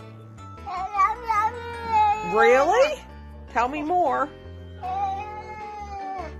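A cat meows in drawn-out, rising and falling cries, close by, while a person talks over and between the calls.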